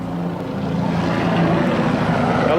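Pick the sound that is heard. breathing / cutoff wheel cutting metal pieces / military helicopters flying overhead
military helicopters flying overhead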